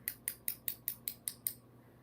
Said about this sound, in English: Constantly clicking of the knitting needles. These are stainless steel, so they will make noise.